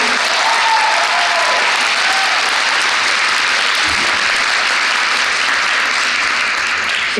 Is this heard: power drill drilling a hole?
no